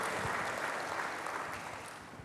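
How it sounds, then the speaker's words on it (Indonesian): Church congregation claps during a sermon on the Holy Spirit, a soft, distant, even patter of applause that slowly tapers off. "Berikan tepuk tangan bagi Tuhan, haleluya."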